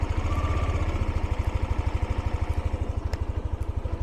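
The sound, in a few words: Yamaha Aerox 155 scooter engine starting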